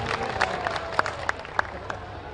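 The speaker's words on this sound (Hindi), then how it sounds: "जोरदार ताली बजा करके स्वागत करें" An audience claps to welcome a guest with a scattered burst of applause, individual sharp claps standing out over a low crowd murmur.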